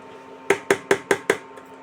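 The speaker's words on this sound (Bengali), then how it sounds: "এবার আমি ঢাকা দিয়ে দেব।" Five quick metallic taps at an even rhythm, close and fairly loud, as a lid is set onto a cooking pan on the stove while pitha simmers in curd.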